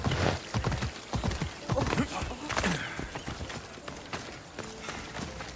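Horse hooves clopping in Assassin's Creed Odyssey, a quick irregular run of close hoofbeats with a whinny, under a game soundtrack.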